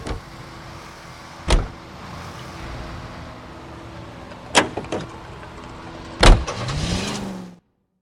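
Car driving in the video game LA Noire, with a steady low engine drone under a few sharp thumps and a louder clunk near the end, followed by a short whirring rise before it cuts out.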